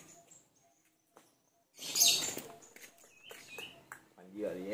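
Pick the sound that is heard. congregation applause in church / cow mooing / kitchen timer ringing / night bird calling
night bird calling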